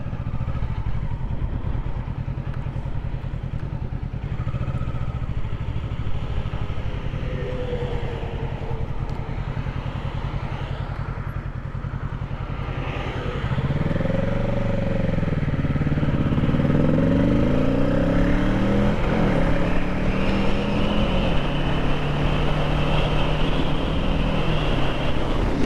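A 2023 Kawasaki Ninja 650 motorcycle engine hums steadily under heavy wind rush while riding, then the engine note swells and rises through gear changes in the second half, close and continuous.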